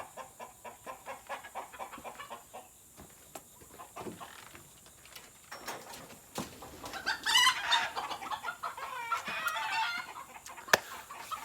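Chickens on a homestead cluck and squawk in repeated short calls, growing louder and busier toward the middle, with a rooster-like burst and scattered fowl noise close by.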